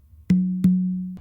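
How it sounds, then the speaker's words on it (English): Two open tones on the tumba conga, about a third of a second apart, each ringing with a sustained, steady pitch, followed by the start of a further stroke. "And then you finish off this variation with two opens on the tumba to your dominant side."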